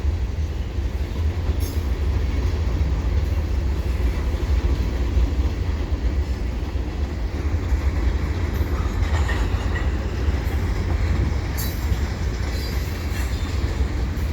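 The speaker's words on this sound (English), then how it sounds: "it's actually pulling out at a pretty decent clip. Probably trying to get ahead of the commuter train." CP freight train with double-stack container cars pulling out at Dorval, a loud, continuous rumble of wheels and cars rolling past close by, with faint squeals and clicks over the steady roar.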